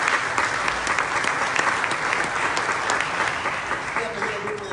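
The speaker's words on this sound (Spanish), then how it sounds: "¿Por qué no le da un aplauso fuerte a Dios?" A church congregation applauds loudly and steadily, a dense wash of many hands clapping that holds for the whole stretch, with a few voices rising faintly near the end.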